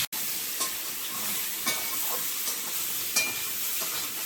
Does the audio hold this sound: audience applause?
no